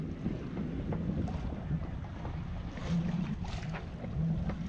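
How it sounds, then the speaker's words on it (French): Steady wind buffets the microphone over the water aboard a Dufour 375 GL sailboat as another sailboat is crossed, with a faint wash of sea under the constant rush and no voices. "Vous voyez, en train de croiser un beau voilier."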